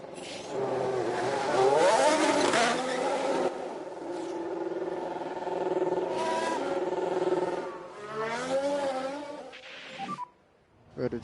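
Formula 1 race cars heading out to the Hungaroring circuit in F1 Manager 23, engines whining and revving in rising and falling pitches, loud and close, with a short gap near the end.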